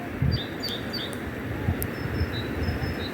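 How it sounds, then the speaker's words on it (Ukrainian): Faint high bird chirps and short whistles sound intermittently over a steady outdoor background hiss, distant and light, in thickets by the Hirskyi Tikych river in Ukraine. "Чуєте, як пташки співають?"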